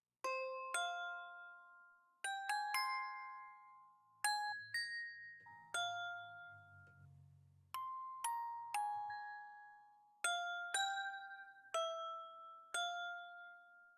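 Imbibophones layered with a music box chime in a bright, bell-like festive melody, with clear struck notes ringing out and decaying in a steady pattern and a soft low hum in the middle.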